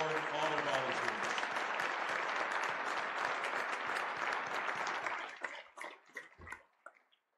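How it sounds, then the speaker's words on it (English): A crowd at a neighborhood safety event applauds volunteers with sustained, dense clapping that thins and breaks into scattered last claps before fading out; faint voices are mixed in near the start. "a big round of applause for 10-Point, the board, all the volunteers."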